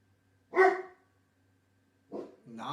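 Dogs bark in two bursts, one loud bark followed after a pause by a few more, fairly close and with no talking.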